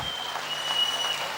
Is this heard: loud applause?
yes